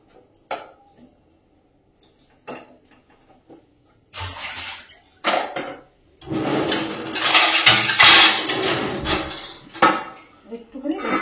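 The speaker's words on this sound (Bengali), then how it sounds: "ফুলকপি যেগুলো কেটেছিলাম জলের মধ্যে ভিজিয়ে রেখেছি সেটা এবার দিয়ে দেবো" Soaked cauliflower pieces go into a pot of boiling water in a home kitchen: scattered metallic clinks of utensil and pot, then a busy stretch of splashing, stirring and clattering, loud and close, ending with sharp knocks.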